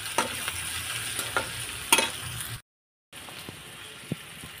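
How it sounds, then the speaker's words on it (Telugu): Onion pieces fry with turmeric and salt in a pan, a soft sizzle broken by sharp scraping stirs, then a brief dropout before quieter sizzling with a few more clinks of the spoon. "ఇలా ఎగుతున్న ఉల్లిపాయ ముక్కల్లో కొద్దిగా పసుపు, కొద్దిగా ఉప్పు"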